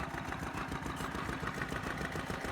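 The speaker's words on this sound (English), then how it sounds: "Beautiful big 6 horsepower engine," A big 6 horsepower vintage stationary engine with an igniter valve runs steadily nearby, its low, even chugging drone holding constant throughout.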